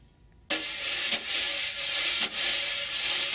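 A steady wire brush swish on a snare drum head, continuous and close, with a couple of slightly firmer sweeps breaking the even hiss.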